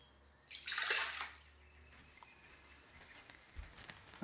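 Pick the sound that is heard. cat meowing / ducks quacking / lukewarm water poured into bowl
lukewarm water poured into bowl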